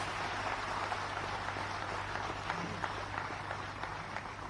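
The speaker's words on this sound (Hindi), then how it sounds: "तो एक बार जोरदार तालियां हो जाए आपके लिए प्लीज" Audience at a Guwahati event for CAPF personnel with Amit Shah applauding: dense, continuous clapping of a large crowd, steady and fairly loud over a low electrical hum.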